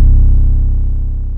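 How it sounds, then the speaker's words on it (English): A harsh, heavily distorted 808 bass hit for a hip-hop beat, played alone as one sustained, buzzing low tone that starts loud and slowly fades. "And the second one is a bit more harsh."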